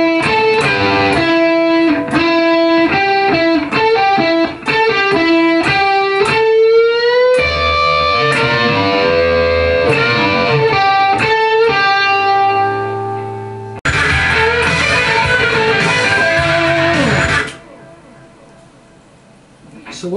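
A slow, distorted electric guitar lead from a solo plays picked single notes and bends, then held, wavering notes before cutting off abruptly into near silence.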